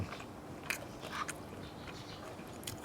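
Someone eating fried tilapia topped with tamarind chili sauce, with a few soft crunchy bites and chewing noises close to the microphone over a quiet room background.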